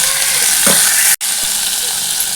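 Tomatoes hit a hot frying pan with a loud, dense, close sizzle that holds steady, broken only by a split-second gap, with no talking.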